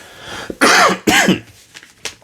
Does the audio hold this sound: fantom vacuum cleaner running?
no